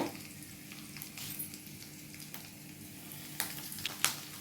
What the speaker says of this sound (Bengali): রসুনটা ভাজা ভাজা হলে পরে এবার শাকটি আমি দিয়ে নেব